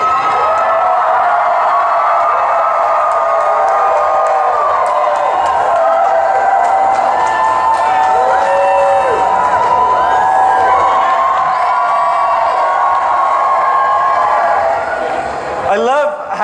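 A fan convention crowd at a Comic Con Q&A cheers loudly and continuously, with shouts and whoops layered over scattered clapping, sustained throughout before easing off at the close.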